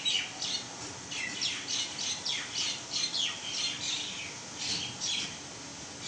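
Myna bird calling from a tree behind a house, a series of repeated harsh squawks and chirps, fairly near and loud over a low steady background hum.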